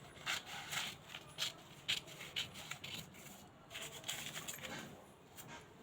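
Scissors cut through blouse sleeve fabric up close, quiet crisp snips and rubbing rustles repeating in an uneven rhythm.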